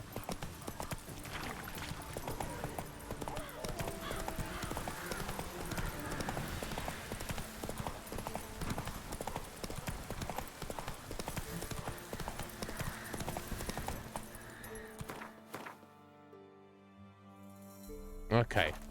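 Horse hooves clip-clop steadily over rough terrain in The Witcher 3, a continuous rhythmic walking beat with game ambience and a voice talking over it, ending in a brief quieter stretch.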